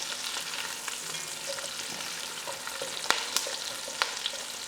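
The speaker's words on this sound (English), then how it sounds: "I'm going to add in my carrots to fry out a little bit so it will get soft." Carrots frying in a pot for a chicken stew, a steady broad sizzle with scattered small pops and a few sharper crackles, continuous and fairly close with no talking.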